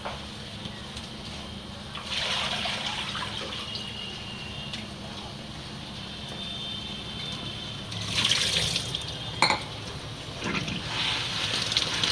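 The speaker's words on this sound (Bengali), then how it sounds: "মাশরুমটা ধোয়া হচ্ছে" Water running while mushrooms are washed by hand, a steady faint trickle with occasional louder splashes and rinsing bursts, close by with no talk.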